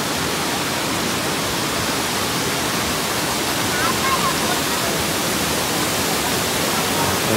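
Curug Cipamingkis waterfall near Bogor pours in a loud, steady, broadband roar of falling water that stays close and constant throughout.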